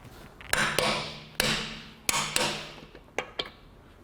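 Light metal hammer taps on a socket fitted over a seized wheel lock nut, about seven sharp ringing strikes spaced irregularly over a few seconds, close and clear with no talking.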